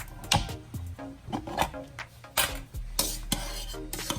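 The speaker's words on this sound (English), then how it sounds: "Add the marinated chicken to the kadai and keep mixing until the kind of dryness you need." Marinated chicken stirred in a kadai over a low flame, heard as close scraping and clattering of a spoon against the metal pan in irregular strokes, with faint sizzling between them.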